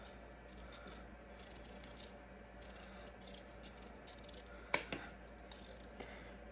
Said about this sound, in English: Now I'm going to peel my potato.